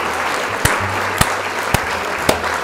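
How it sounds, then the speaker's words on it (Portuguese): A continuous wash of crowd applause, loud and even, punctuated by a few sharp thumps at regular intervals. "Essa daí merece muitos aplausos"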